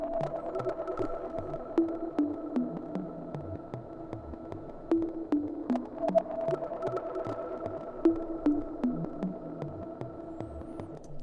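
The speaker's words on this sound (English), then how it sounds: "We have this little plop sound." Synth plop sound in a bedroom-produced beat, small watery drops bouncing over a sustained pad and soft low throb, repeating in rhythm at a modest level with no talk.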